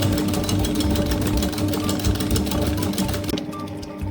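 An electric mixer beating chocolate muffin batter: a loud, steady motor whir with a rapid rattling pulse, running continuously and close before easing off near the end.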